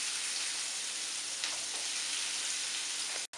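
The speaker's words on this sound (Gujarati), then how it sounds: "હવે તેની અંદર આ કાપેલો કાંદો નાખીશું" Chopped onion sizzles steadily in hot oil for a Parsi lagan nu stew, a dense continuous frying hiss that holds evenly close up before cutting off abruptly at the end.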